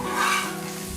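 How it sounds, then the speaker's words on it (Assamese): Small eggplant pieces frying in a pan, turned over and over, give a steady, close, dense sizzle with faint stirring, no voices. "ইপিঠি সিপিঠি বাৰে বাৰে লুটিয়াই মই ফ্ৰাই কৰি আছোঁ"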